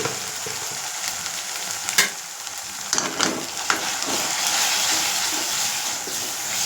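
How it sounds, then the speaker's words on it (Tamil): Turmeric powder sizzles in hot oil during tempering of spices, a constant close frying hiss with a few louder crackles and stirring clinks, no talking. "இப்படி போட்டு தாளிக்கும் போது நல்லா கலராக இருக்குதா பார்க்குறது"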